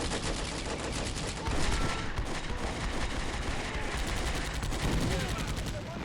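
Dense, continuous gunfire rattles from a WWII tank battle in the Combat Mission strategy game, a loud unbroken clatter of rapid shots layered over battlefield noise with no pauses.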